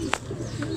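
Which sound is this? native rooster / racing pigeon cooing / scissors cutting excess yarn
racing pigeon cooing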